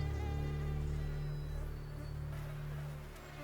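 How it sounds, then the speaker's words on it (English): Mosquitoes swarm in the northern wilderness where wolves roam, making a dense, steady whining drone with many overlapping tones. The buzzing sounds close and continuous, with no talk over it. "The mosquito calamity afflicts small animals as much as large ones."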